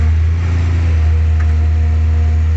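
A tractor engine runs while the tractor is stuck in snow, giving a steady, loud, unchanging low hum with no voices.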